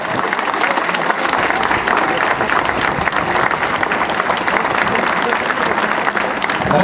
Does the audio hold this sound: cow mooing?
no